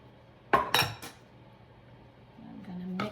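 A utensil clinks and scrapes against a bowl while mixing the dry and wet ingredients of a flourless, sugar-free kabocha squash cookie dough, with a quick cluster of knocks early on, a quiet stretch, then another clink at the end.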